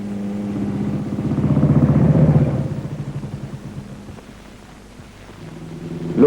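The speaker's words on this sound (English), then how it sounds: "Switch on, in the case of coil ignition models, set the twist grip slightly open and give a good swinging kick" Coil-ignition motorcycle engine from a 1955 film, kick-started with the twist grip slightly open: a low rumble that swells, then settles into a steady chugging idle before rising again at the end.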